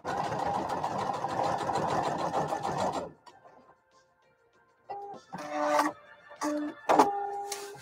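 A home sewing machine runs a basting stitch on a McCall's 8217 garment, a steady loud whirring hum for about three seconds, then a pause and a few shorter start-stop bursts, close up with no talk.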